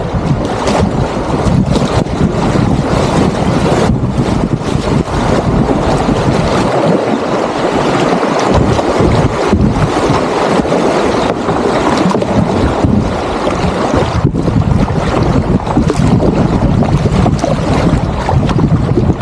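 A light wind blows over a canoe or kayak paddling down the Minija river, loud, close rumbling buffets that gust and roar continuously across the microphone without pause.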